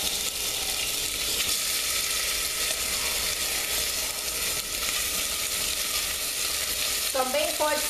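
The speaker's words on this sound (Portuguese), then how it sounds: "eu vou começar dourando o frango" Seasoned chicken breast browning in a pan gives a steady frying sizzle that fills the clip, a dense crackling hiss with faint stirring scrapes near the end.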